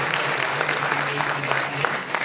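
Applause from an audience at an evening Urdu poetry gathering at the Urdu Academy in Gomti Nagar, Lucknow: dense, steady clapping held throughout the brief stretch with a faint low hum beneath.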